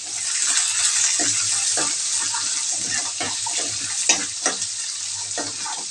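Whole onions and garlic cloves frying in a pan for vangi bath, a loud close steady sizzle and crackle with a few soft clanks of a utensil near the end, no talking.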